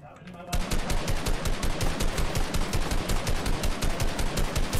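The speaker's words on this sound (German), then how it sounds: "Auf mich Schüsse von oben vom Berg." Rapid automatic gunfire in a video game, fired from above on a mountain: a dense, fast, evenly spaced string of loud shots that starts abruptly after a short quiet moment and keeps going without a break.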